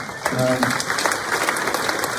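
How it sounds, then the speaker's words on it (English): A crowd at a live property investors' meetup in Sydney claps steadily in a room, a burst of applause lasting the whole moment, with a voice briefly heard at the start. "go for it if you want to give it a clap"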